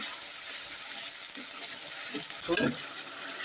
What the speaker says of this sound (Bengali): সরসুনটাকে ভেজে নিচ্ছি